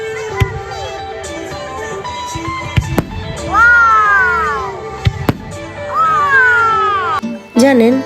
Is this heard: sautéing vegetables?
no